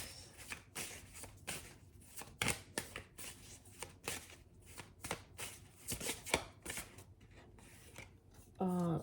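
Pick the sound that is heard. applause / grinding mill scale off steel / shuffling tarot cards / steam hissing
shuffling tarot cards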